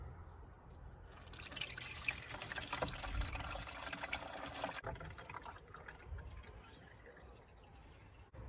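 Antifreeze mixed with distilled water is poured into the coolant reservoir of a 2014 Kia Sportage 2.0 CRDI, giving a steady close liquid pour and splash for several seconds before it eases into a softer trickle.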